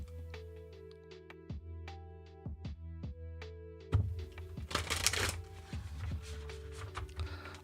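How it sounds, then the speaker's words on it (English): A deck of oracle cards being shuffled by hand in a gentle, light shuffle, soft riffling flicks that turn into a denser rustle partway through, close and quiet with no talking. "I'm just doing a little baby shuffle and grabbing one"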